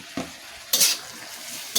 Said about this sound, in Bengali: ভালোভাবে নাড়াচাড়া করে নিচ্ছি।